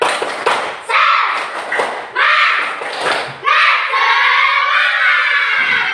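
A class of grade 4B schoolchildren does a rhythmic clapping chant, several loud bursts of clapping and shouted chanting rising and falling in repeated cycles, with a sustained louder group stretch near the end.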